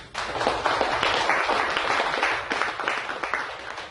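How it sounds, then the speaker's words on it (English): A seminar crowd gives itself a round of applause, lively crowded clapping with distinct sharp claps poking through, swelling early and tapering slightly toward the end. "Give yourselves a big round of applause."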